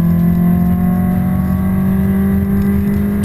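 A Seat Leon Cupra 280 accelerates hard on a circuit, its engine pitch climbing steadily in a loud, continuous in-car drone with no talk.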